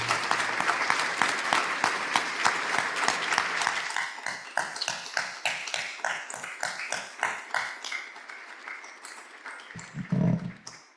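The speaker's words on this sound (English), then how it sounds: "A round of applause for all our newest Paul Harris Fellows." Rotary Club audience applauding its newest Paul Harris Fellows: full applause at first, thinning into a smaller group clapping in a rhythmic beat, then dying out as a voice comes in.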